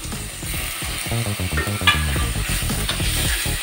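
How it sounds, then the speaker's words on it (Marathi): Spinach, tomato and gram flour stir-fried in a pan: steady sizzling with a rapid, rattling scrape of a spoon stirring throughout, close and loud. "आता 1 ते 2 मिनिटासाठी आपल्याला हे सारखं हलवून परतून घ्यायचं चांगलं."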